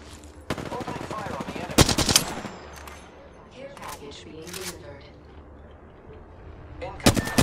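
Bursts of gunfire in a battle royale video game: a few sharp cracks early, then a loud cluster of shots near the middle and another burst at the end, with quieter rattles and movement sounds in between.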